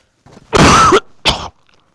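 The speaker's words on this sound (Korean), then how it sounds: "자꾸 기침이 나와서" A man in a lecture setting coughs twice, loud and close, with a long harsh burst followed by a shorter one, in a quiet room with no talk.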